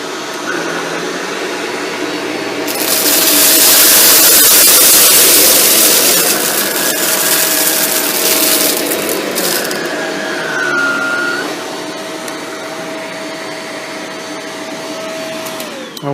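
A Shark Rotator Lift-Away Speed NV682 vacuum cleaner works along baseboards with a loud, steady motor roar and airflow hiss that swells as the nozzle moves along, then settles to a lower drone, heard close with no talk.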